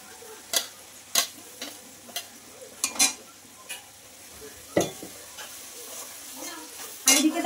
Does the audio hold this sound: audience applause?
no